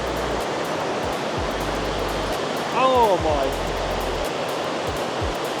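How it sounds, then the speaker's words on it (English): Loud rushing water from a waterfall in rural southern Spain roars as a steady, dense wash of noise, while a person briefly exclaims over it. "Oh, I can hear a lot of water."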